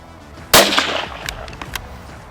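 A single sharp, loud shot from a Merkel K5 rifle at an outdoor test, followed by a short decaying echo and a few faint knocks afterward.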